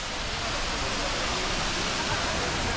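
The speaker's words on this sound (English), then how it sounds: "So here is the waterfall." A waterfall in Munnar, India roars as a dense, constant wash of falling water, loud and close, without a break.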